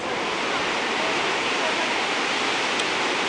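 Dense, steady roar of rushing water, a continuous broadband wash of Niagara Falls heard from a short distance, loud and unbroken.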